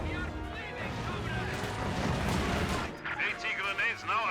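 Company of Heroes 2 battle as Soviet Conscripts fire on Panzer Fusiliers: dense, continuous rattling gunfire mixed with heavier booms, loud and sustained, with a commentator's voice running over the combat.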